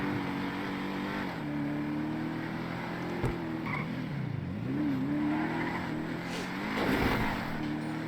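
A car engine revs and pulls away from close by, its pitch rising and falling through gear changes, with faint tire noise and a low rumble throughout and no talking.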